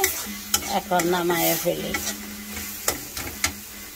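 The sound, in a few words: small fish frying and stirred in mustard oil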